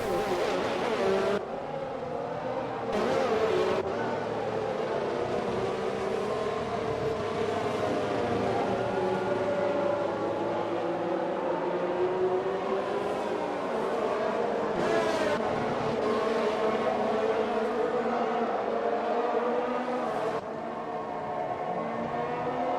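F1 race cars in a video game running slow laps behind the safety car at the Hungaroring, a continuous droning engine hum with shifting pitch and a few brief louder swells.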